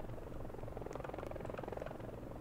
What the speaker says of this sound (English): What was that airplane noise?